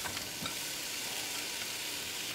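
Zucchini and onions hiss and crackle loudly in hot thin olive oil in a pan at medium-high heat, a steady close sizzle with no voices.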